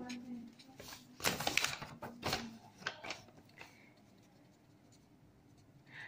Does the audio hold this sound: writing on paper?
yes